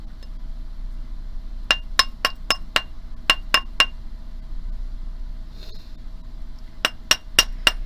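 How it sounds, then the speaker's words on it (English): A mallet strikes a ring on a metal mandrel during jewelry making, giving bright, ringing metallic taps in quick bursts of four to six, with a pause between groups, close and clear with no voices. "I'll let my hammer do the rest of the work"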